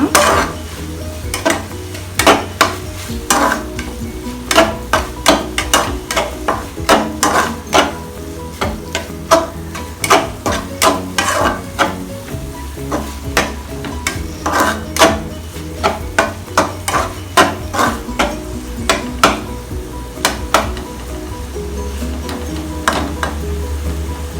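Egg khurma is stirred in a pan through a long stretch of rhythmic spatula scrapes and knocks against the metal, with a soft simmering sizzle beneath and no voices.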